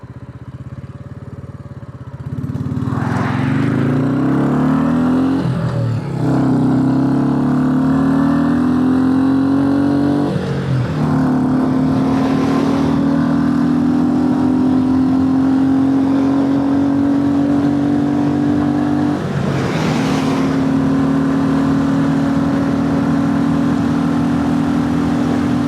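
A car passes close by on the road while riding a Royal Enfield Classic 350 motorcycle, its engine drone and wind roar loud and steady throughout, with a few whooshing swells as traffic goes past.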